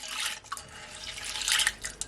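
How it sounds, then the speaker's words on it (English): Peas being washed in cold water in a kitchen bowl or sink, with steady splashing, dripping and swishing water, close and moderately loud, with no talking. "I'm just gonna wash my peas in some cold water"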